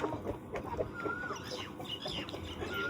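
Chickens and a rooster cluck in a busy farm coop, steady overlapping calls and short squawks running throughout at moderate distance with no talk.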